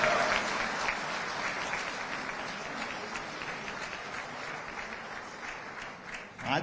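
An audience applauding Prime Minister Modi, steady dense clapping from a large crowd that holds throughout and swells again at the end, with a faint voice underneath.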